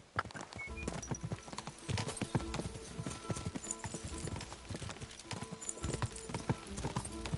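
A horse gallops at race pace in Kingdom Come: Deliverance II, its hooves drumming in a quick, continuous clip-clop rhythm with an occasional whinny, fairly close and steady, with a little voice underneath.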